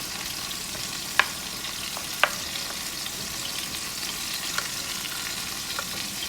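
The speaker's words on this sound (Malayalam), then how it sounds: "പച്ചമുളക് നല്ലതായിട്ട് വഴറ്റിയെടുക്കണം." Chopped onion and green chillies sauté in a pan with ginger and garlic for Kerala-style fish molee, giving a steady, soft sizzling hiss broken by two sharp spatula clicks and a few lighter taps.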